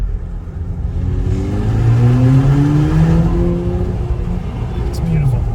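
A 2018 VW Polo GTI revs hard in second gear as it passes under a bridge. The engine note climbs loudly, echoes close by, and then eases off as the car pulls through.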